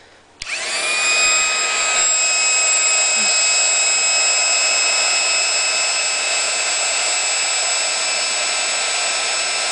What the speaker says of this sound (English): I just have the Paper Studio ink gun, or heat gun.